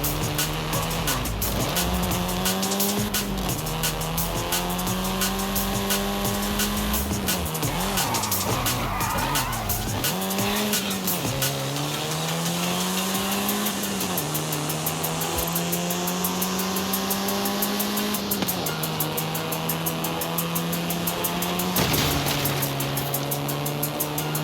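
A car in the Forza Horizon 5 racing game driven hard, its engine droning loudly and continuously with the pitch shifting through gear changes and tires squealing repeatedly in skids, no voices.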